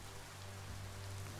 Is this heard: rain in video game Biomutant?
yes